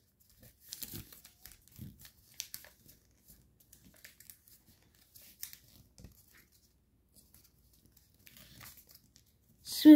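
Paper being swivel folded while making an origami bird model, with soft, sparse crinkles and rustles close by, separated by quiet gaps, ending in a louder crumple.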